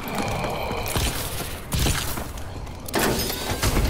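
A door-opening mechanism in Call of Duty: Advanced Warfare Exo Zombies, heard as mechanical clanks and grinding, with several loud thumps and surges over a steady whirring bed.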